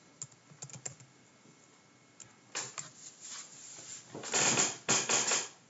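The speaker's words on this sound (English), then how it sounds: "I can't type tonight." Computer keyboard typing comes in scattered quiet taps at first, then denser, louder bursts of keystrokes, close and clear in a quiet room.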